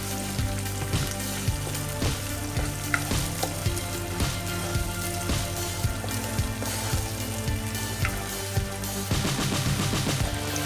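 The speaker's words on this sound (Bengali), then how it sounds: "এটাকে একটু পেঁয়াজটাকে হালকা ব্রাউন করে ভেজে নেব" Salted onion frying in a pan until light brown for karahi chicken, with a constant hiss and crackle under a steady rhythmic tonal backing.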